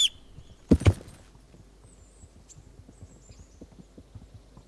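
Horses walking in the video game Kingdom Come: Deliverance, with soft rhythmic hoof clip-clops running throughout after a couple of loud thumps at the start, and no talking.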